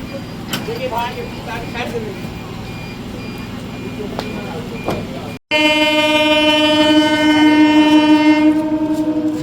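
A Howrah to Amta local train rumbles along with a steady rattling roll, then a loud sustained horn blares close by. A voice speaks over the train noise.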